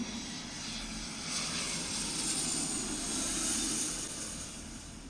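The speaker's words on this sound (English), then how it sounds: "I love the sound of the jet planes" Jet aircraft rumble overhead as a steady, broad roar that swells slightly toward the middle and eases off, continuous and fairly loud with no talk over it.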